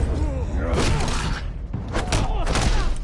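Gunfire in the Batman Telltale game sounds as rapid bursts of shots and thuds, mixed with loud, busy game action and overlapping voices throughout the short stretch.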